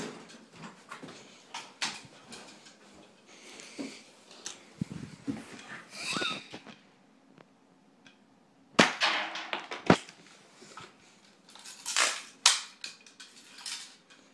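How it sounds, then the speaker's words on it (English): A real gun fired at a Nintendo DS game cartridge, with several sharp, loud cracks at irregular intervals separated by quieter handling noise. "my brother's gonna shoot it"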